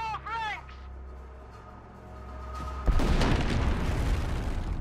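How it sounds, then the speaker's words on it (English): Airstrike explosions in the Company of Heroes 3 North Africa campaign: a low rumbling buildup, then a loud booming blast with sustained crackling debris, preceded by a brief voice. "All right, let's get an airstrike going."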